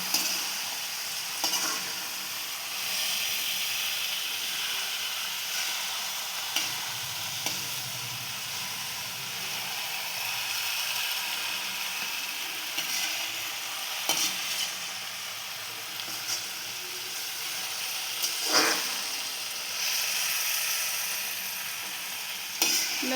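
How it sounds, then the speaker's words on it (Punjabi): A potato, fenugreek and spinach curry is stirred slowly with a slotted spoon in a pan, giving a long steady soft sizzle with scattered scraping knocks, close and unaccompanied by speech. "ਇਹਨੂੰ ਹਿਲਾਵਾਂਗੇ ਆਪਾਂ ਹੌਲੀ ਹੌਲੀ ਝਾਰਨੀ ਦੇ ਨਾਲ"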